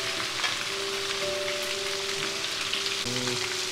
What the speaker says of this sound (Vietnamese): Thế rồi chú bỏ vô chú chiên.